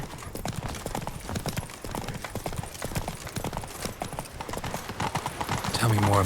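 Hooves of a horse clip-clopping at a steady trot in the video game The Witcher 3, a continuous rhythmic patter of close, fairly loud footfalls with game sounds mixed in.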